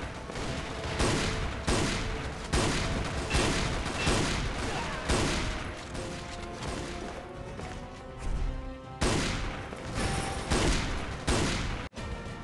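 Repeated shotgun blasts from the silver crossbow XS in a video game, loud broadband bangs firing steadily about every half second to second, with a brief pause near the end before the shots resume.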